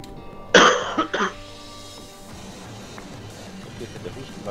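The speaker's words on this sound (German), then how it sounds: "der Husten war gestern schon besser und heute ist er wieder schlimmer." Two or three harsh coughs burst out close and loud from a person, followed by quieter background with faint murmuring.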